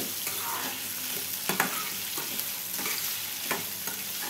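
Food browning in a pan over a high gas flame for a salan: a steady, close sizzle with brief stirring scrapes at intervals, no voices.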